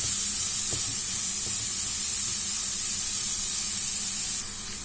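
Vegetables being sautéed in a pan for vegetable and minced-meat cigars, giving a steady, loud, continuous sizzle and hiss that drops slightly at the very end.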